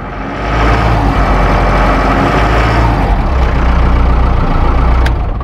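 A Mahindra Bolero 1.3 pickup with a BS4 DI diesel engine idles steadily and loudly up close, its low, even rumble running unbroken with no talk over it.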